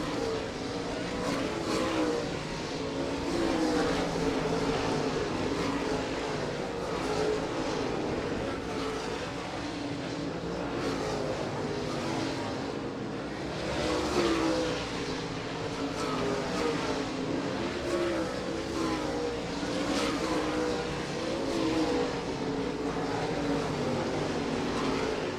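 Late model race cars circling I-96 Speedway, a continuous thick engine roar that swells and fades as the pack passes, loud and unbroken throughout.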